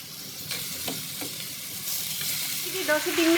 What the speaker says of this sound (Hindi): इसे हम भून लेंगे 2 से 3 मिनट